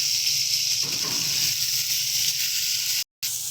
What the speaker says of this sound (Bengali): সুন্দর করে মাছগুলোকে ভেজে নেব।